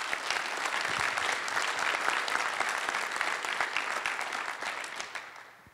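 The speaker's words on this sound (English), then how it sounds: "So a big applause for the volunteers." Conference crowd at the AppSecUSA security event applauding the volunteers, a sustained wash of many hands clapping at even strength that slowly fades near the end.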